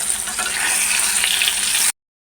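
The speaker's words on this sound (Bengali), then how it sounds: "আর এদিকে মাছটা আমি ভেজে নিচ্ছি।" Fish fries in hot oil for a Bengali fish curry with new potatoes, a loud, close, steady hiss of sizzling that holds evenly for about two seconds and then stops abruptly.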